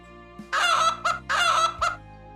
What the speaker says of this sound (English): Let's search for hidden eggs in the chicken coop, while the chickens cluck and peck around.